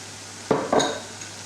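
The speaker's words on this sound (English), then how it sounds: "we're only just going to fry this for a couple of minutes" Leftover seasoning for a Ghanaian-style yam side is fried in a pan, with a quiet sizzle punctuated by two quick scraping clatters of a utensil against the pan, close and otherwise calm.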